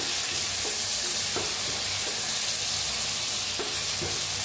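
Masala ridge gourd frying in oil in a pan while being stirred, a steady loud sizzle with scattered scraping clicks of the spoon throughout, no voices.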